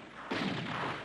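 A cannon fires during a military scene in a 1970 Disney film, a single sudden heavy boom that swells and rumbles on for about a second.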